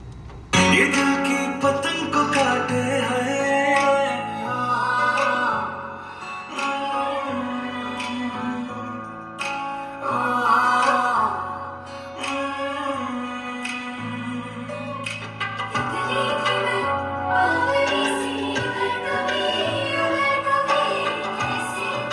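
Loud music blasts steadily from a car audio setup in a Thar fitted with 10 midrange speakers, dense and full-range with thumping bass under bright upper tones, with no talking over it.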